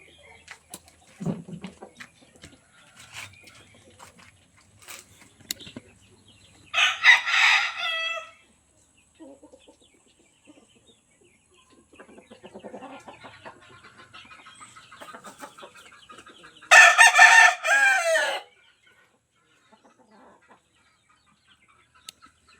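Two loud crows from gamecocks stand out roughly ten seconds apart, with quieter clucking and scattered farmyard noises in between.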